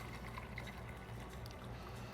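Watermelon juice pours steadily from a carafe through a strainer, a soft continuous liquid trickle, faint and alone.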